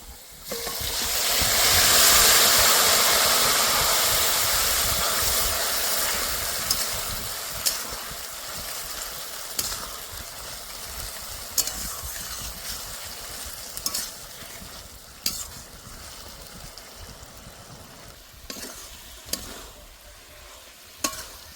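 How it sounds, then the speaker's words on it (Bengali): A rohu fish head fries in a pan with a loud, close sizzle that swells early and then slowly fades to a softer hiss, broken by occasional sharp clicks from a turner. "এবার ভালো করে ভেজে নেব। লালচে করে ভেজে নিয়েছি"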